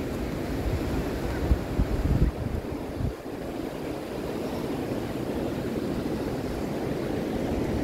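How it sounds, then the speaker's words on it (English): Surf washes steadily onto a black sand beach at Senegambia Resort in Kololi, The Gambia, a continuous broad rush with wind buffeting the microphone and a few heavier swells early on. "This is a black sand beach."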